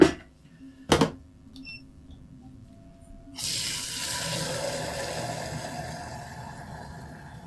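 After a brief clunk and a few faint clicks, tap water gushes steadily into a container, a continuous close splashing rush with no talk.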